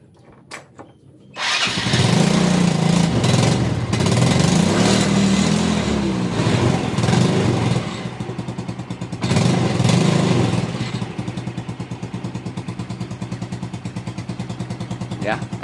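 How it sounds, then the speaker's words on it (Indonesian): Motorcycle engine idling with a leaking exhaust from loose bolts, a steady close putter that rises and dips in revs, with a chuffing, slightly rough tone throughout. "Knalpotnya bocor, nanti akan kita betulkan."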